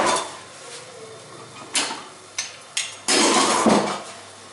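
Chopped onion and spices mixed in a cooking pot for a beef keema filling, a few sharp metal spoon knocks and scrapes against the pot, ending in a longer stirring scrape.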